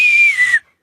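A single clean, loud Star Trek shipwide announcement whistle rises and then slides slightly downward before cutting off into silence.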